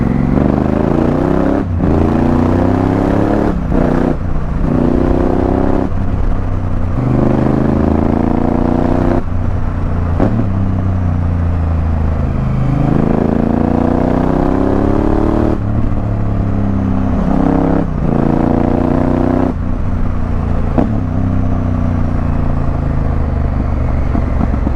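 A Honda Africa Twin motorcycle engine rumbles continuously on country lanes, close and loud, rising and falling with repeated gear changes and throttle swells over steady road and wind noise.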